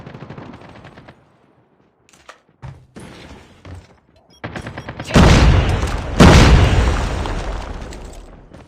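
Rapid automatic gunfire from the mobile shooter Call of Duty Mobile, with short bursts and pauses, then sustained loud firing and booms in the second half.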